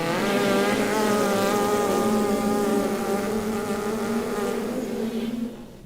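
A trumpet player's lips buzzing on and then off the mouthpiece, a loud, nasal, insect-like drone holding a steady pitch for several seconds before cutting off, with no talk.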